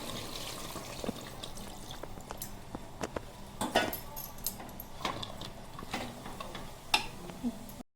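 Water is added to a pot of mutton curry cooking with potatoes, giving a running, splashing pour with scattered clinks of pots and utensils throughout.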